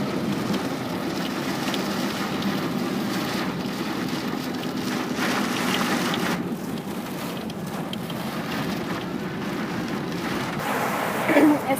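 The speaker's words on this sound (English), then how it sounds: "It's now hailing." Heavy rain and hail in a storm drumming steadily on a vehicle during a drive, a loud continuous broadband wash that holds for over ten seconds with no pauses.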